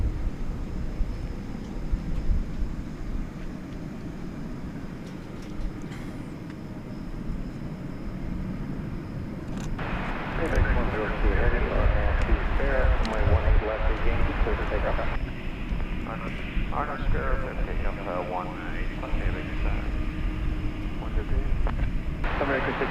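A jet airliner takes off at DFW International Airport, its broad roar swelling partway through and holding steady and loud, with people talking over it.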